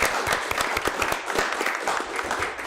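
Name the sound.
applause for the Scottsdale team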